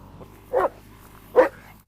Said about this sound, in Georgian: თქვი ძაღლის ხმა ისმის მეთქი.